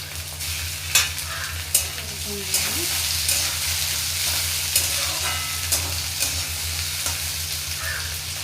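Chopped tomatoes sizzle in a frying pan while upma is being cooked, a steady crackling fry with a low hum beneath and occasional soft clicks of stirring.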